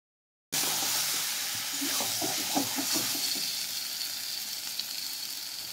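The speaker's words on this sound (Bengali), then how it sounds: "মশলার সঙ্গে এঁচোড় আর আলুর টুকরো ভালো করে কষিয়ে নেব।" Fried jackfruit and potato pieces sautéing with spices over low heat begin after a brief silence as a steady hiss and sizzle, with a short cluster of stirring clatters midway, close and without speech.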